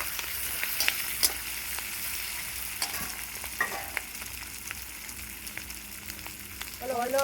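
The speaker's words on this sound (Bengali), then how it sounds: "এবার এর মধ্যে ক্যাপসিকামগুলো দিয়ে দেবো, পেঁয়াজ দিয়ে দেবো, ভালো করে নেড়ে নেব।" Capsicum and onion stir-fry in a pan, a soft continuous sizzle punctuated by clicks and scrapes of stirring, fairly quiet and close.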